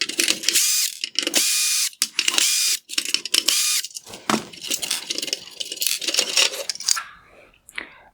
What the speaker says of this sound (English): Next, I'm going to remove the T20 screws holding this bracket in place.